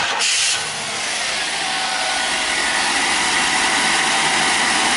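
A Buick Grand National engine idles steadily with its throttle position sensor unplugged, a close, continuous hiss-laden hum with a short louder burst at the start.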